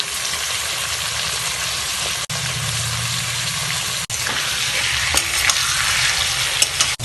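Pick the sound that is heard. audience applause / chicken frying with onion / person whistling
chicken frying with onion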